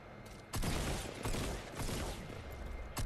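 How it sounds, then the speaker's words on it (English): Shooter video game gunfire comes in several loud, sharp bursts, each a sudden crack followed by dense sustained fire, fairly close and with no talking over it. "I shot him three times"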